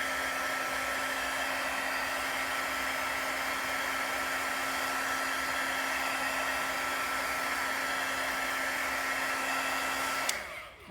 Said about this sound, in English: I have a really old heat tool.